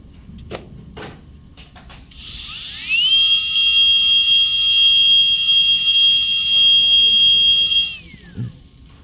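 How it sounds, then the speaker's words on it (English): A dental drill fitted with a 30 bur widens the isthmus of a Class II MO amalgam cavity on a mandibular second premolar, rising into a piercing, steady high whine for about six seconds, then winding down amid faint clinks. "I'm gonna make the isthmus wider with the 30 burr"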